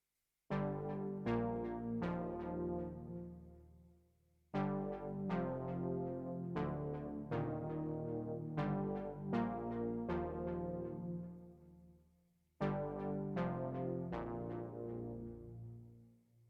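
Sustained chords from a Prophet 08 analog synthesizer with a rich analog tone, played in three long phrases, each chord struck and ringing out, with short gaps between phrases.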